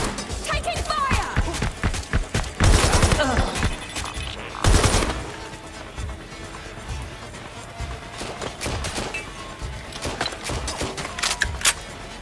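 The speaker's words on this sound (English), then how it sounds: "Need some cover! Taking fire!" Gunfire rattles in a Watch Dogs: Legion firefight: loud irregular bursts and single cracks come and go over a steady background mix, with a voice calling out between the shots.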